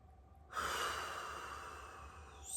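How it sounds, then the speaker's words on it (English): A single slow, deep inhalation through the nose begins about half a second in and continues steadily for roughly two seconds, close and soft, with a faint start of another breath at the end and no talking. "Take a nice deep breath."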